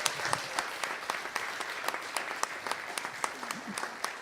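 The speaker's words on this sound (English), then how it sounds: "can we get another round of applause for those 3?" An audience claps in a round of applause at a community gathering: steady, moderately loud hand claps with a few sharper individual claps standing out, continuing throughout without a break.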